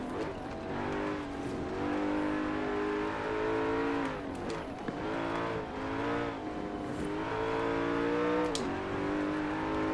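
A Volvo inline-six turbo engine in Forza Horizon 4 revs hard through repeated rising pulls between gear changes, loud and close, with a brief tire squeal near the end.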